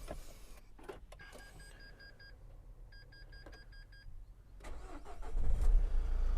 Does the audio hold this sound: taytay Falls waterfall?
no